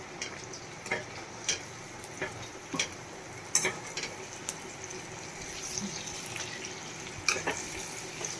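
Potato slices being stirred with red chilli powder, coriander-cumin powder and fresh coriander in a pan, with soft sizzling and a steady series of light scraping and clinking strokes at close range.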